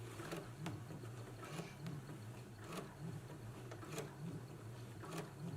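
Home sewing machine stitching a garment seam in place, a steady soft mechanical hum with regular faint ticking clicks, close and continuous with no talking.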